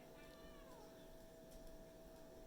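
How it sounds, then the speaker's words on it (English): A cat meows faintly in the background, a brief rising and falling call over a steady low hum, with no talking. "That's my cat in the background if you just heard a meow."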